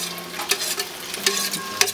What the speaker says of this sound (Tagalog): iprito-prito ang ham